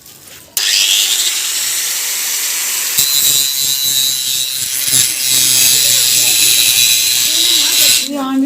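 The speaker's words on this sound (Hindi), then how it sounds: "मैंने कहा इसको थोड़ा ना इधर ग्राइंडर के साथ कट लगा दूँ" A grinder cuts into a bicycle part to loosen the chain, giving a loud, continuous high-pitched whine and rasp for about eight seconds with a slight shift partway through, then stopping abruptly.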